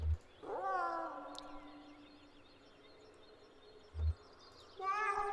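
Cat in the video game Kentucky Route Zero giving a long, sustained meow near the start and a shorter one at the end, close and fairly quiet, with faint soft thumps between.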